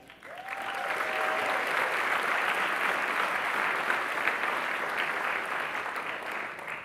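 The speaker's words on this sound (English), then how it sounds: "Let's hear a huge round of applause for all of you in the audience today" A large audience at the SAMCEDA annual meeting in San Mateo County bursts into a sustained, even wash of applause, loud and continuous for several seconds before easing slightly at the end, with a brief whistle near the start.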